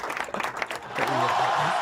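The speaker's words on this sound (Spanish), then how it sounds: "Así que este aplauso es para ellos." Studio audience applause for guests on a live radio show, a mixed burst of claps under a voice at first, then settling into a steady, dense wash of clapping.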